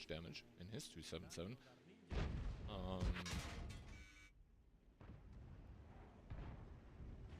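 Tank cannon fire in World of Tanks, a 7v7 competitive match, with heavy booming shots and explosive thuds mixed under continuous commentary talk.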